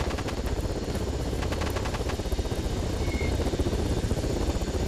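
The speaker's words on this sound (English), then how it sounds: "There is a chopper now." Steady, rhythmic chopping of helicopter rotors in the game Arma 3, fairly close and continuous, with a low engine rumble underneath.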